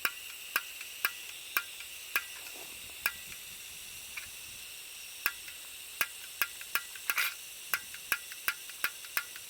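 A built-in piezo igniter clicks on a Japanese-made SOTO gas burner: sharp, dry ticks repeat about twice a second, close and fairly quiet, over a faint steady hiss.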